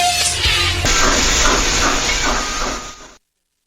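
A recorded steam train gives off a loud continuous hiss of escaping steam with a faint rattle of rail cars, stopping abruptly into silence.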